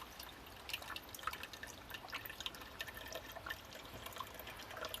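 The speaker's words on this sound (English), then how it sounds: "You can hear the water" Water of 40 Mile Creek trickles and drips beneath huge boulders, a faint, steady gurgle with scattered drips, heard alone without talk.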